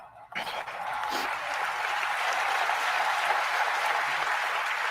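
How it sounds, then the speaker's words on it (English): Sustained audience applause at the Oscars ceremony, a dense, steady wash of clapping that starts abruptly after a brief quiet moment and holds at full strength throughout, with no speech over it. "They in there clapping like they don't want to get slapped."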